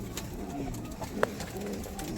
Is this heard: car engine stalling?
no